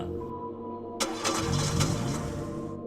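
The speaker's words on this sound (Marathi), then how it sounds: "अखेर इंजिन पुन्हा बंद पडलं" A jeep engine turns over at close range but fails to catch, a sudden loud burst of cranking and rough motor noise that runs on steadily for almost two seconds before cutting off.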